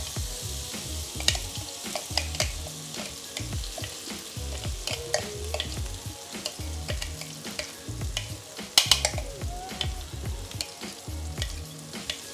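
Steady sizzling and crackling of ground spice paste frying in hot oil for spicy soy sauce chicken, with repeated scraping and stirring taps of a utensil.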